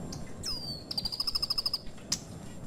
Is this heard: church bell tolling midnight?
no